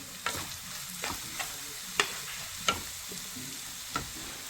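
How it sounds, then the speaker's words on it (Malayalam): Chopped bitter gourd stirred into coconut frying in a pan, a constant close sizzle broken by sharp spoon scrapes and taps against the pan at irregular intervals, with no talking. "നമ്മുടെ കൊത്തി അരിഞ്ഞു വെച്ചിരിക്കും നമ്മുടെ പാവയ്ക്ക് ഇട്ട് കൊടുക്കണേ"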